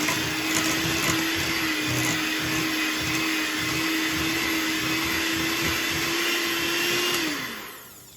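An electric mixer whirs steadily for about seven seconds through chocolate chip cookie dough, a constant close motor drone that winds down at the end.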